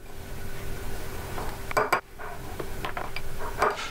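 A spoon clinks and scrapes against a bowl while mixing coconut oil with siwak powder into homemade toothpaste, with a few sharp metallic taps standing out over a quiet room hiss.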